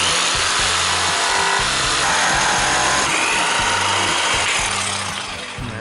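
A jigsaw cuts through wood for New England style window trim, a loud, continuous buzzing saw with a rapid chatter that holds steady for several seconds before easing off slightly at the end.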